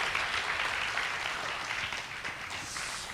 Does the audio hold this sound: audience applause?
yes